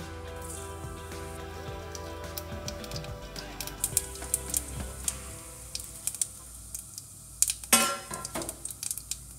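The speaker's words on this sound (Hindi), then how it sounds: "तो अब हमारा तेल गर्म हो चुका, इसको थोड़ी धीमी आंच कर लेंगे और इसमें एक छोटा चम्मच जीरा डालेंगे" Cumin seeds hit hot oil over a low flame while cooking sarso ka saag, giving a steady close crackling sizzle with scattered sharp pops and an occasional clink of utensils.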